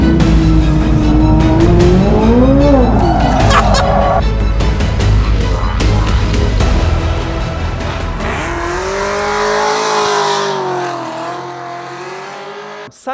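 A Chevrolet Corvette C8 Z06 with a 670-horsepower engine roars loudly and continuously, revving up and down in rising and falling sweeps with sharp crackles, close by, then the engine settles into a lower drone before cutting off near the end.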